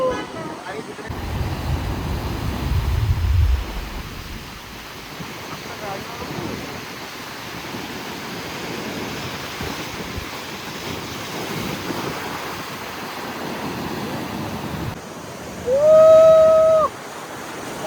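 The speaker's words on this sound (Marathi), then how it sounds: "लाटा बघा लाटा दिसते कशा कडक भरती आले भरती" Rough, steady roar of high-tide ocean surf washing in at Malvan on the Konkan coast, with wind buffeting the microphone and people talking now and then; a short tonal whistle-like sound near the end.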